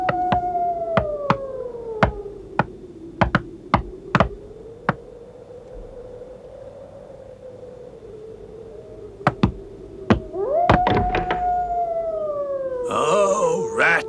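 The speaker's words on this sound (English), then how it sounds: "Knock. Knock just as loud as you can." Loud knocks on a wooden door in a 1988 Wind in the Willows cartoon come in two bursts, several sharp raps early on and a few more later. A steady wind-like howl runs underneath, and a voice cries out near the end.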